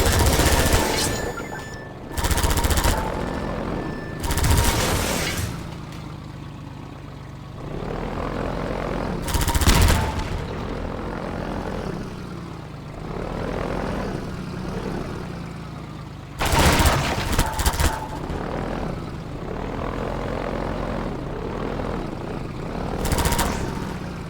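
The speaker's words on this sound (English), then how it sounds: "the final showdown between the player and the Combine attack helicopter" A Combine attack helicopter in the video game Half-Life 2 roars through a battle arena, its rotor and engine drone rising and falling under repeated sharp bursts of loud gunfire and explosions.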